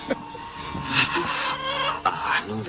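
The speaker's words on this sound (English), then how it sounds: "You can tell when the chicken gets it." A chicken clucks in a busy, cluttered room, a few choppy clucks and squawks rising over a steady background wash.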